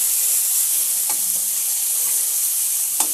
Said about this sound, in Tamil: பச்சை மிளகா போட்டாச்சு, சின்ன வெங்காயம் லேசாக வதக்கினா போதும்